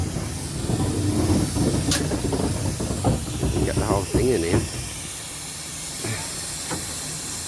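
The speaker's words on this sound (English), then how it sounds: "Right, this is the steam train anyway, Bodmin Parkway. Oh, it looks wicked, don't it? Blowing off the steam." A steam locomotive at Bodmin Parkway station blows off steam in a loud, steady hiss that fills the scene for several seconds, with a nearby voice talking over it.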